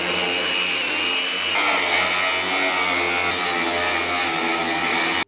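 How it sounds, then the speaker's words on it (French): Angle grinder with a cutting disc chamfering the edges of aluminium sheet on a jet boat build, a continuous loud high-pitched whine and grinding rasp held steadily, close up, stopping abruptly at the end. "la mission, ça va être de mettre un petit coup de disqueuse dans tous les bords de tôle"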